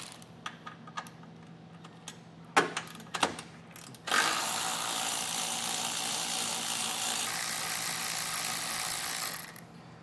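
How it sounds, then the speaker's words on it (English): Two 13mm bolts being removed from a 2023 Ford Maverick during a Blue Ox base plate install: a few sharp clicks and ratcheting knocks, then a long, steady loud rasp of a powered tool running for several seconds. "the first thing we're going to be doing is taking out these two 13mm bolts"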